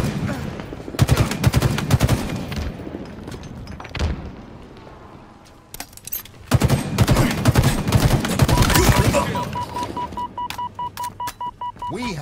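Rapid automatic gunfire in a ranked Halo Oddball match, loud bursts of shots with short pauses between them, followed by quick regular rounds near the end. Brief in-game voice callouts are mixed in.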